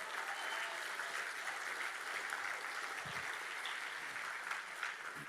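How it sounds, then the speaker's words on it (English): Sustained applause from the audience at the Texas Youth Summit rolls on steadily throughout, a dense, even texture of many hands clapping, heard from some distance at a moderate level. "Give him a round of applause."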